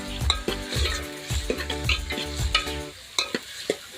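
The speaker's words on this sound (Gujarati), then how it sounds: "તેને આપણે હવે તપેલાની અંદર નાખી દઈશું અને બરાબર હલાવી દઈશું" Spoon stirring chola fali sabji (long bean curry) in a pot, with a steady sizzle under rhythmic scraping strokes about every half second that stop near the end, close by, with no talk.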